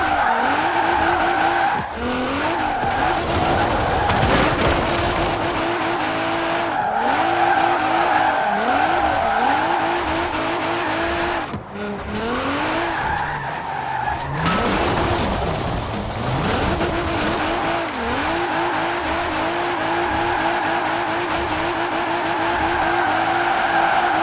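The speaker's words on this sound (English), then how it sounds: "A great bit of practice for drift driving." Drifting car in the racing game Forza Horizon 4, engine revving steadily with repeated sweeping pitch rises and long tire squeals throughout, loud and continuous with no talking.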